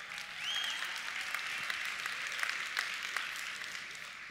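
A convention audience claps in a dense, steady round of applause that carries through the whole stretch, with no speech over it.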